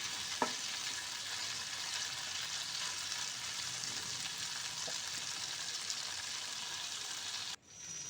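Okra coated with turmeric fries in a pan, a steady, fairly faint hiss and crackle that runs on evenly before cutting off abruptly near the end.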